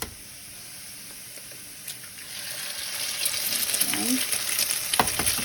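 Eggs are cracked into a hot pan for chilaquiles and sizzle steadily, the frying growing louder and busier as they land, with light clicks and a brief spoken count over it.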